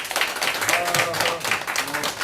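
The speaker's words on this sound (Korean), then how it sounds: "큰 박수 부탁드립니다." An audience claps for a lecturer introduced at a seminar, a short burst of mid-distance clapping with voices talking over it and a faint tone beneath.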